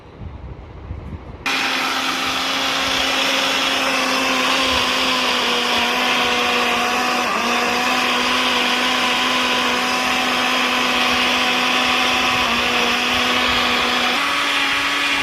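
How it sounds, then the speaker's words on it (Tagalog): A blender whirs loudly and steadily as it purees avocado, chia seed, walnut, peanut butter, milk and honey into a smoothie, starting abruptly after a brief quiet moment and running unbroken with slight pitch dips. "i-blend na po natin siya"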